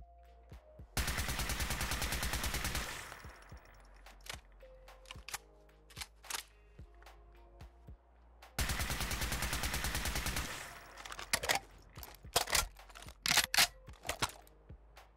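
Radium Rifle reload animation from a Fallout 4 mod: two long, loud stretches of dense rapid mechanical rattle, each followed by a scatter of sharp metallic clicks and clacks, alone in a quiet background.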